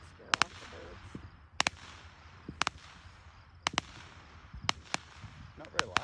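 Fireworks burst during a Fourth of July display in the USA, sharp loud bangs arriving in irregular clusters of two or three over steady outdoor background, with people chatting quietly between the explosions.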